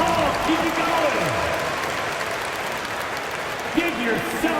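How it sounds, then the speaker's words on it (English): Loud, continuous crowd applause and cheering at a Knicks at 76ers game in NBA 2K25, with a commentator's voice talking over it. "Give yourself a round of applause."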